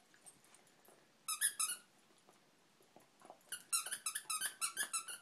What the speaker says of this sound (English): Does it squeak again? Can you squeak it?